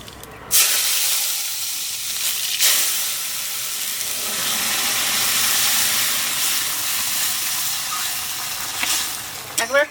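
Cumin seeds dropped into hot oil for a rohu fish curry burst into a loud, sustained sizzle and hiss that runs nearly the whole time, with a few crackles and clinks near the end.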